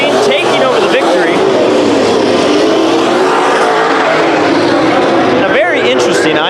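IMCA modified race cars thunder through a speedway heat race, engines loud and continuous with passing surges near the end, while an announcer talks over the racing.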